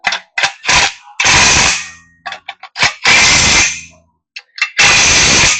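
Metal clanks and ratcheting clicks from a wrench tightening bolts during an engine install on a 1984 Ford F250, coming in short sharp bursts and longer rattling runs, close and loud, with no talk.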